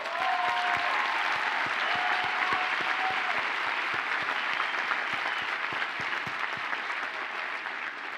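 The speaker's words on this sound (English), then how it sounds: "Let's give ourselves a well-deserved round of applause." Graduates at a commencement ceremony applaud themselves in a large hall, a steady, dense roar of clapping from many hands held at even loudness throughout.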